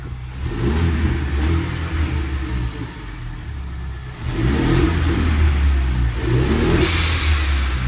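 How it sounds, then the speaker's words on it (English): Ford Bronco engine revved while parked after a radiator replacement, with deep repeated revs that swell and fall back to a steady idle, sounding loud and close with no talking. "Going to rev it up."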